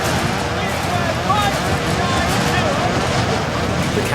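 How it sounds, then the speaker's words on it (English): Loud, steady roaring wind rushes continuously through an airliner cockpit after its windscreen has blown out, a dense broadband storm noise with no breaks. "the storm rushing through the cockpit drowns out their replies."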